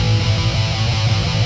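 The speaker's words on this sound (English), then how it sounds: "I've turned up the low end exciter all the way and the high end exciter just a little bit" Guitar and bass stems processed with a low-end exciter pushed all the way up and a slight high-end boost, giving a thick, booming bass-heavy tone that plays steadily and loudly with no talking.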